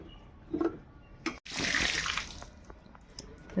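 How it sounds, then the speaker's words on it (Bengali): Water splashing and running as dried lote fish is rinsed to wash out sand, a brief close swish of pouring water and handling, with no talk. "জল দিয়ে দিয়ে ভালো করে ধুয়ে নেবেন"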